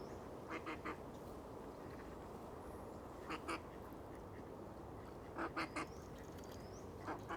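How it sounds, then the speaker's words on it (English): Wood duck calling in outdoor surroundings, several short squeaky quacks in brief clusters, moderately distant, with other faint bird calls and steady background hiss. "that's got to be one of the tamest wood ducks I've ever seen."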